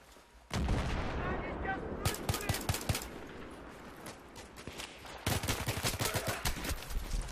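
Rifle gunfire in the Battlefield 3 video game, loud bursts of rapid shots in clustered volleys over a constant battle din, with a voice briefly heard among them.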